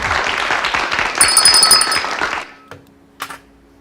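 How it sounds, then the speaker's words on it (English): A brief burst of clapping on a live cafe talk show, quick and fairly close, lasting about two seconds before cutting off, followed by a couple of isolated knocks or thumps. "That was a quick kind of applause."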